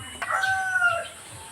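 A Wyandotte rooster suffering from a bad cold crows once, a single drawn-out call heard fairly close with some background noise and no talk.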